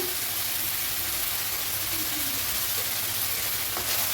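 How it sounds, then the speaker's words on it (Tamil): Small cut tomatoes with a pinch of turmeric sauté in a pan for an eggplant and potato poriyal, producing an even, steady frying hiss from start to finish with a faint clink near the end. "நல்லா வதக்கிடணும் தக்காளி நல்லா வதங்கி வரணும்"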